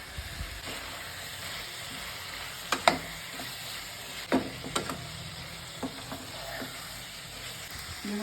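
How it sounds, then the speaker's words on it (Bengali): Potatoes fry with spices in a pan in a home kitchen with a soft, steady sizzle, broken by a few sharp spoon clinks and scrapes against the pan. "আলুটা আমার সুন্দরভাবে ভাজা হয়ে গেছে মশলার সঙ্গে"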